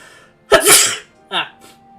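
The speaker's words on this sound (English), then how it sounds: "I got need to sneeze." A single loud, close sneeze with a sharp burst, followed by a shorter vocal sound and a faint trailing noise, over a quiet background.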